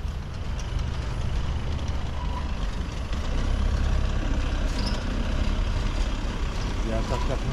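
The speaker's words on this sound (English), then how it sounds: "that's definitely a big car" Large police vehicle rumbling past nearby with a heavy, loud engine drone and a few high beeps, while people talk over it.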